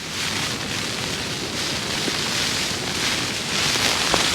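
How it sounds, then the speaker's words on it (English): Heavy rain and strong wind pound steadily on a small one-person tent, a dense continuous roar close around the shelter with no pauses or talk. "that rain's getting bloody heavy now"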